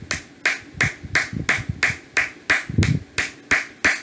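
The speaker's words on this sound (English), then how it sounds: "Please clap for yourself." Roughly a dozen sharp claps in a steady rhythm, each a crisp burst, close and fairly loud with no talking.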